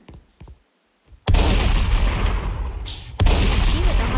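Shotgun blasts in the Roblox game Prison Life: after a few soft taps, a loud booming shot erupts and rumbles on, followed by a second heavy blast, close and dominant with no talk.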